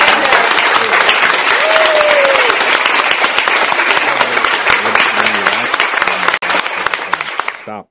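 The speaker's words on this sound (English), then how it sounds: "Stop clapping for us" Loud, sustained applause from a studio audience at a record-attempt show, dense clapping filling the whole stretch with a voice briefly heard over it.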